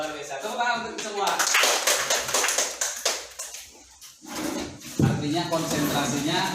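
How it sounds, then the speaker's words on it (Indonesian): A classroom of students claps together, a brief burst of applause mixed with tapping, while a teacher's voice talks over it and before and after. "Tepuk tangan untuk semua."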